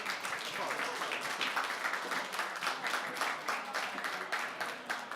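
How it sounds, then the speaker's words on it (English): An audience applauds hackathon finalists at a winners' announcement, fairly quiet sustained clapping with scattered voices mixed in throughout. "please give applause for everybody"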